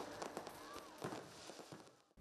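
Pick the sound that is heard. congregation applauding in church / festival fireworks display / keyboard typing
festival fireworks display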